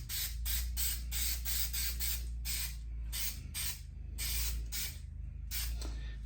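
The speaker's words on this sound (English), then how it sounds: "you can see I'm spraying this on" Spray adhesive hisses onto a surface in a run of short, loud bursts with brief gaps between them, close up and with no talking.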